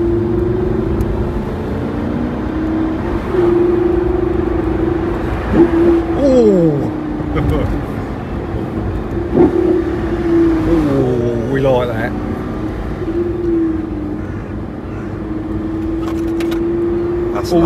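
Lamborghini Gallardo Performante LP 570-4 Spyder driving with the roof down and wind deflector up, a steady engine drone with wind and road rumble throughout and a few passing swells from other vehicles.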